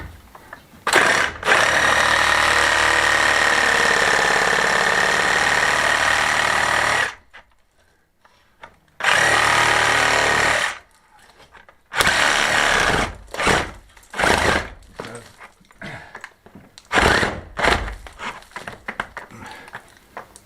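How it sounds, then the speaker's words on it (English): A reciprocating saw cuts through an old pipe buried in a wall of a Spanish finca under restoration: one long, loud continuous buzzing cut, then a silent pause, followed by shorter stop-start bursts of sawing, close by. "what I'm going to do with the old sawzall is cut it in half."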